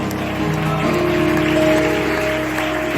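A congregation's loud applause during a sermon, a dense rain-like wash of clapping that carries on over sustained low tones.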